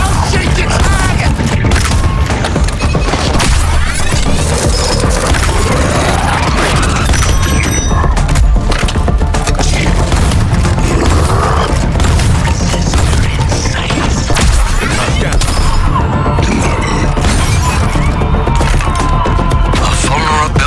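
Dense gunfire, heavy booms and crashing explosions fill a boss fight against the Flash in the video game Suicide Squad: Kill the Justice League. The sound is loud and unbroken, with bursts and metallic clatter layered over a constant rumble.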